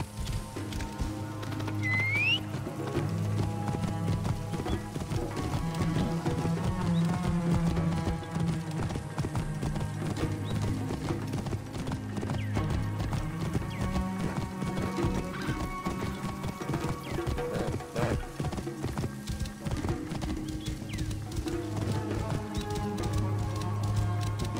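Horse hooves clip-clopping steadily with an occasional neigh in Assassin's Creed Origins, layered over continuous in-game music and ambience for the whole stretch, with a rising whistle-like call early on.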